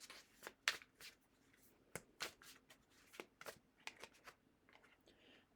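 A deck of oracle cards is shuffled and drawn, producing a run of crisp, irregular riffling snaps and flicks close by, with no talk.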